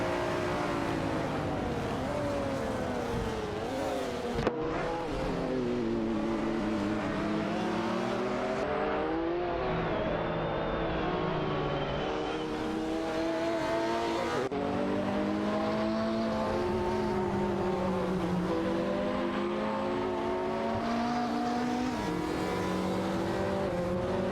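Racing engines from a McLaren F1 GT and a Ferrari F40 LM in a video game race, a continuous loud drone with rising and falling revs as the cars accelerate and shift, two engine tones overlapping throughout.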